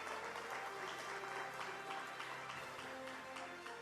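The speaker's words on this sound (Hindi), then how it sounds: "तालियों के साथ स्वागत करें उनका" Distant, thin crowd applause greeting India's defence minister at a public event, a steady patter of many hands clapping continuously at low volume throughout.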